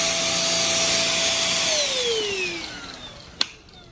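A NADALY cordless vacuum cleaner on turbo setting gives a loud, steady high-pitched whine that then winds down in pitch, followed by a sharp click near the end, heard alone without talk.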